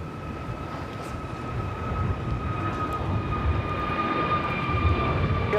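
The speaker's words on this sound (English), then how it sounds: "It's so weird to see 787-9 in Dreamliner with KLM." A KLM Boeing 787-9 Dreamliner at Los Angeles airport gives a steady, broad jet roar with thin whining engine tones, swelling slightly louder midway and holding on without a break.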